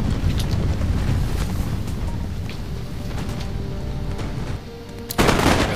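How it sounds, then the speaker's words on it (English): Ferguson rifles firing in a Total War battle: scattered distant musket shots crack faintly over a steady rush of wind and battlefield rumble, with a sharper burst near the end. "His Ferguson rifles are now just plinking away at my guys."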